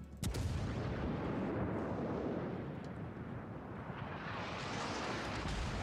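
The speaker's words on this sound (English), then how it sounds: "Stop firing at me, I'm not firing at you!" Naval guns fire in World of Warships with one sharp blast at the start, then a long, dense, rumbling roar of distant shellfire and explosions that carries on steadily to the end, with no voices.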